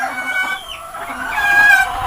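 Fighting roosters cluck and murmur softly nearby over a steady background hum, with a brief higher call near the end.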